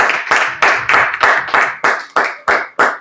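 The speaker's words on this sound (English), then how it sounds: "Big round of applause for everybody." An audience claps in unison at a presentation session at an institute: about nine loud, sharp, evenly spaced claps in a steady rhythm over three seconds, close and with no voices.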